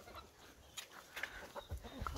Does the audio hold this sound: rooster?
yes